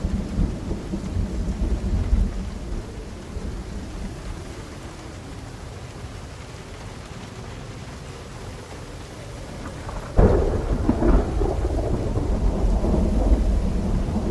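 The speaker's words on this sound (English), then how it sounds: "a storm that sounds like zombies" A thunderstorm in Project Zomboid: steady rain hisses under low rumbling thunder, and a loud crack of thunder breaks in near the end, followed by heavier rolling rumble.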